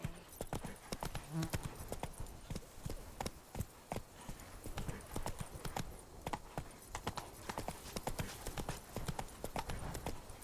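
A horse gallops in The Witcher 3 video game, hooves clip-clopping in a fast steady rhythm, close and continuous, with no talk over it.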